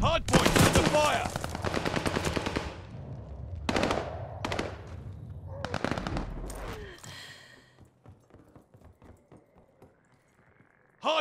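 Rapid automatic gunfire bursts in a competitive hardpoint match of a first-person shooter, loud and close in the first seven seconds, then fading to scattered faint shots and a game announcer's voice.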